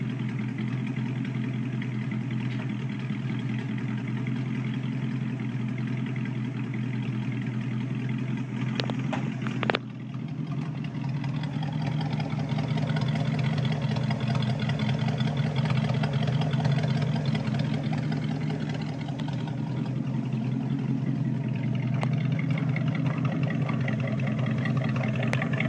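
A 1966 AMC Marlin with a 327 V8 and 2-inch dual exhaust with small resonators idles steadily, a deep, even burble with a brief blip near the middle before settling back to a smooth rumble.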